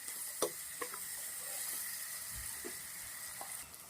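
Onions fry slowly in a pan for a Rajasthani Rajwadi sabji, giving a faint, steady sizzle broken by a few soft clicks and taps.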